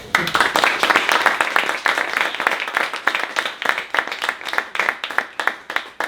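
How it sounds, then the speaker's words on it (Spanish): Audience applause at a book presentation for a travel-literature book, with dense, steady clapping from many hands that fades slightly toward the end. "quiero recibirla con un fuerte aplauso"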